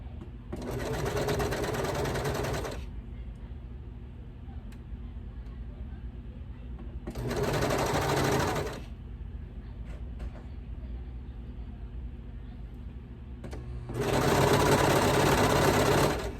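A Brother Lock 1034D serger stitches baby bummies in three bursts of steady, buzzing machine running, separated by quieter pauses with faint handling sounds.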